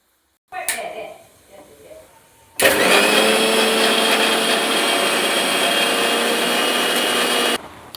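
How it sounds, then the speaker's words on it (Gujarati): A brief voice and some handling, then an electric mixer grinder blending green chutney with water roars loudly and steadily for about five seconds before cutting off abruptly. "હવે આપણે આમાં થોડુંક પાણી નાખશું અને મિક્સરમાં ચાલુ કરી દેવાનું"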